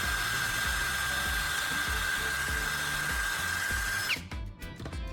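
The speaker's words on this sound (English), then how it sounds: "I'm drilling another hole on the opposite side of the charger casing using the same step drill." A step drill bores steadily through a Samsung charger's plastic casing, a loud continuous whine with rhythmic grinding pulses, then cuts off abruptly near the end, leaving brief clattering handling sounds.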